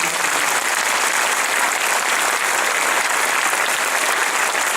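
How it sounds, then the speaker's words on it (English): A packed audience at a fifth grade honor choir concert gives the Board of Education a round of applause, a loud, sustained, tightly packed roar of clapping from start to finish. "So I think we need to show them a round of applause."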